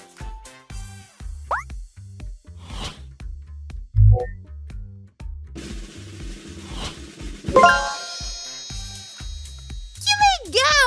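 A dolphin in a children's educational cartoon lets out high, rising and falling whistles near the end, after playful music with boings, plops and cartoon sound effects.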